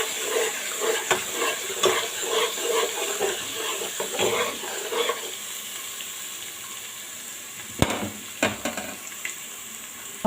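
Onions fry in a pot and are stirred until golden, with busy scraping and sizzling for the first half, then quieter hiss and a few sharp utensil knocks near the end.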